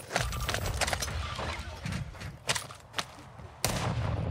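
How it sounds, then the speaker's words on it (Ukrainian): Scattered gunshots crack at irregular intervals in Call of Duty: Modern Warfare II DMZ, some sharp and close, others duller, over a rough background rumble. "И сейчас ще хтось стріляє."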